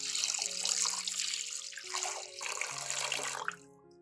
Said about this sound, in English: add clean water until the water completely covers the chestnuts.